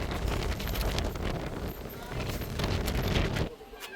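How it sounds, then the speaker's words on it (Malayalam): Strong wind buffets the microphone at the Ramakkalmedu hilltop viewpoint, a loud continuous roar with gusts that rise and fall before easing slightly at the end. "കാറ്റുണ്ട്."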